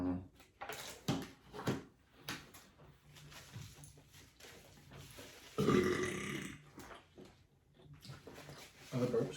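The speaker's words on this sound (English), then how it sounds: "Oh, the burp's good." Burps during a Domino's pizza mukbang, one loud, drawn-out belch in the middle and several shorter ones scattered among close, casual speech and eating noises.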